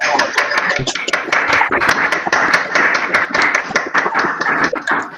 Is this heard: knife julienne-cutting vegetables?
no